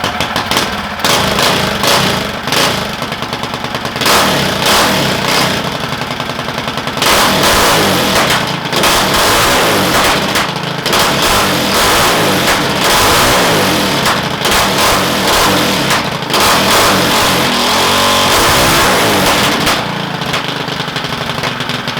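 Duromax 440cc stage 4 small engine built to around 30 hp, revving hard in repeated bursts that rise to a high, raspy scream and fall back, loud and close, with no talking over it.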